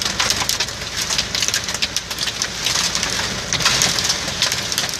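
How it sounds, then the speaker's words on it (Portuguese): Hail pounding a stopped truck during a heavy hailstorm on the Rodoanel in São Paulo, a dense continuous rattling roar of stones striking metal and glass, loud and steady with no voices. "chuva de granizo. E muito forte."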